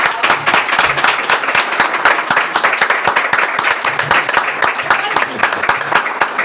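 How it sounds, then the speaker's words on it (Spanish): An audience claps steadily at a book presentation, a dense patter of many hands that stays even throughout with no talking. "Un aplauso para ella."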